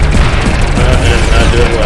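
A mega bomb going off in the shoot-'em-up game Sky Force Reloaded: a loud, sustained wall of explosive rumble and crackling blasts with dense low-end booms, continuous for the whole moment.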